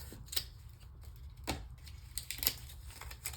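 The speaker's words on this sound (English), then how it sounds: "a little snippet scissors to get the packaging off" Small scissors snipping open craft packaging for a mini hardcover junk journal, a few faint sharp cutting clicks spaced irregularly in a quiet room.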